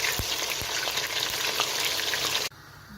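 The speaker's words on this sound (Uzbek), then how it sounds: "Endi baqlajonimizni ham xuddi shu shaklda qovurib olamiz" Eggplant fries in a pan with loud, steady sizzling oil for a few seconds, and stops abruptly.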